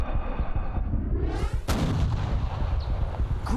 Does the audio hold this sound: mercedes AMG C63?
no